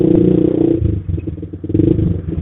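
Close, loud motorcycle engine with an aftermarket handmade racing exhaust revving in pulsing bursts, a throaty rumbling exhaust note that surges, dips briefly, then climbs again.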